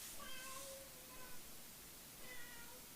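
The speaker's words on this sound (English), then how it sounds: "my cat wants to explain as well. I'm not sure if you just heard him, but he's here." A cat meows several times, faint and somewhat distant, with drawn-out tonal cries rising above a steady hiss of background noise.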